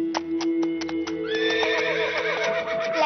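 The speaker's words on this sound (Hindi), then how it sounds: "घोड़े पर बैठकर आ गए हैं" A horse whinnies loudly and clearly, close by, while hooves clip-clop in a quick rhythm that starts just before the neigh and continues beneath it.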